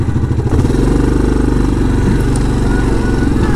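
A Yamaha Grizzly 700 SE quad climbs an off-road hill track on Sardinia, its engine droning loud and steady with a pulsing low note throughout, close by, with brief voice over it.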